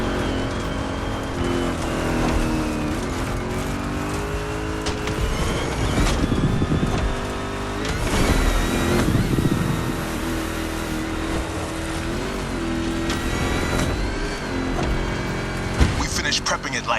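A car engine drives and revs in The Crew Motorfest racing game, a steady loud drone with rises and falls in pitch as it accelerates and shifts, continuous throughout, with voices talking over it.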